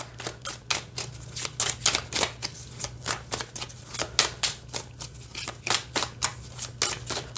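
Cards from an Animated Movie tarot deck are shuffled in a steady run of quick, regular snaps and flutters, close and fairly quiet, with no voice over them.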